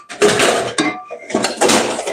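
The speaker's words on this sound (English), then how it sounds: "Let me get my pan out." New pans from Walmart being pulled out and handled, giving a few loud, close metallic clanks and scraping rattles in quick bursts.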